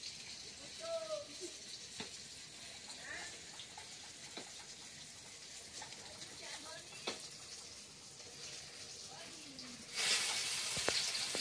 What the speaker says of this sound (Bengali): প্রথমবারের বেগুন ভাজা কিন্তু হয়ে গিয়েছে প্রায়